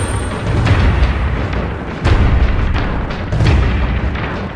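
Mutator grenade blasts in the Resistance 3 video game, deep booming explosions going off in quick succession, three loud surges roughly a second apart over a continuous rumbling battle bed.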